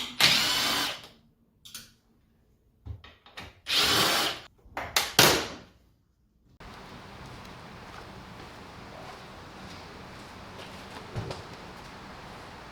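Several short bursts of a power tool whir close and loud as 7 mm bolts come out of a Corvette C8 Z06 center console, separated by pauses and followed by a long quieter stretch of background noise.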